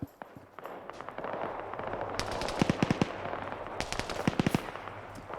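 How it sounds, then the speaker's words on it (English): Rapid bursts of automatic gunfire crackle through a video game battle, with sharp clustered shots rising over a busy background, some volleys close and loud, others more distant. "They're just literally whiffing bullets down range here"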